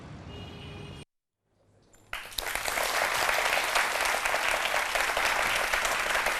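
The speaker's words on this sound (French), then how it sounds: "C'est timide quand même, les applaudissements." After a sudden drop to silence, a television studio audience breaks into applause that begins timidly and swells into steady, dense clapping lasting to the end.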